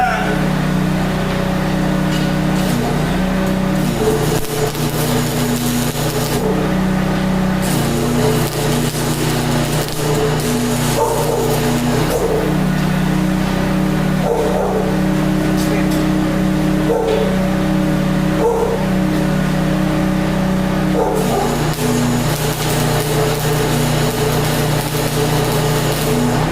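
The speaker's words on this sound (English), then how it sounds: "So let me go get that generator fired up." A generator powering a sawmill fabrication job runs loud and steady throughout, its hum rising and falling slightly in pitch, with faint shop noises and occasional voices underneath.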